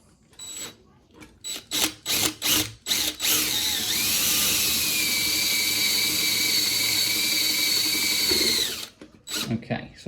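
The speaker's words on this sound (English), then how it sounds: "proceed to drill through the wood" A power drill whirs in a few short bursts, then runs steadily for several seconds as it bores through wood into a door latch, ending with a couple more quick bursts.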